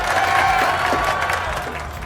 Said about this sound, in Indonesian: sekarang mari tepuk tangan kepada Bapak Hidayah